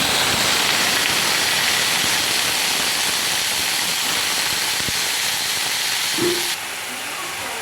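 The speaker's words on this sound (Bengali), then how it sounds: "তেজপাতা লঙ্কা ফোড়ন দিলাম, সর্ষে ফোড়ন দিলাম" Bay leaf, dried chilli and mustard seeds crackle in hot oil in a kadai, a dense continuous hiss with a soft knock near the end before the sizzle drops a little quieter.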